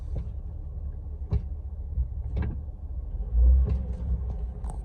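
A Jeep, built up on 5.13 gears, crawls along in low range, its engine a low steady rumble with occasional knocks and thumps from the drivetrain or terrain.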